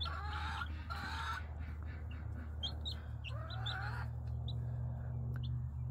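Baby chicks kept in an outdoor setup cheep in short high bursts, several calls close together, over a steady low hum of background noise.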